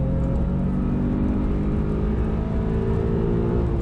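Porsche 911 Carrera T engine pulling hard on a race track straight, a steady loud sustained drone with a slowly rising pitch, heard alone without talk.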